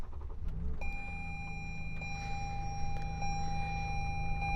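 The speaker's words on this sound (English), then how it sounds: "So to start the car, just put your foot on the brake and press the start button." A 2018 Lexus RX 350L started with its push button: a brief click, then a quiet engine settling into a steady idle with a constant electronic tone, heard from inside the cabin with no talking.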